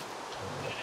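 Sheep bleat in a Minecraft world, a short, faint, noisy bleat against a busy game backdrop with no talk over it.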